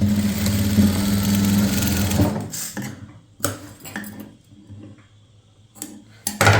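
A sewing machine stitches a churidar shoulder seam in a steady loud whir for about two seconds. It then stops and gives a few short bursts with quiet handling between them.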